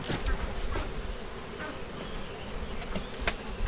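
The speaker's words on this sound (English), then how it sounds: "Pretty good sized swarm." A good-sized swarm of honeybees hums in a steady, dense drone that fills the whole stretch at moderate level, with a few brief louder buzzes of bees passing close.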